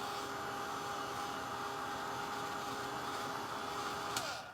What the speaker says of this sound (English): let me bring in my dryer for a minute because that may help